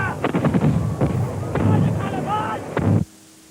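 Rebel cannon opening fire on a battlefield, a dense run of heavy booms and crackling blasts, loud and close, with voices shouting over the din before it cuts off abruptly.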